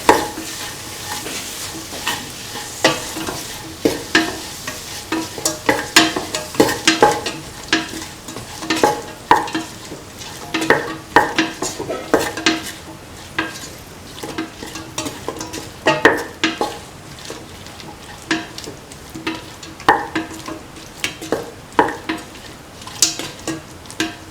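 Beef, tomato and coconut milk stew being stirred while frying, repeated scraping and clacking of a utensil against the pot over a steady sizzle, close and irregular.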